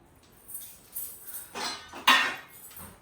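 Dishes and a spoon clink on a metal thali plate in a home kitchen, a few separate close knocks and clatters with one sharper clank near the end.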